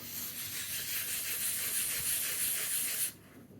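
Dry 1500 grit sandpaper rubs over the painted surface of a cheap Sony Vaio VGN-BX393 laptop in a close, steady, loud scrubbing hiss that lasts about three seconds and then stops abruptly.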